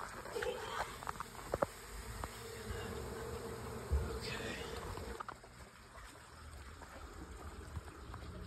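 A wild swarm of honeybees buzzes steadily and close during a hive transfer outdoors, a dense continuous drone with occasional louder passes near the ear, while a person speaks over it at times.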